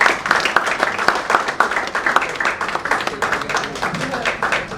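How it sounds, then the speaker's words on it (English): An indoor Women's Day celebration audience claps warmly for a woman receiving a token of appreciation, a dense, even patter of many hands close by that carries steadily through the whole moment. "Give her a round of applause."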